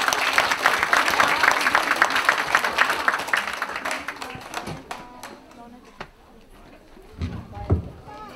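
An audience at an ocarina contest award ceremony breaks into a burst of clapping that starts dense and loud, then thins into scattered claps as a presenter speaks over it.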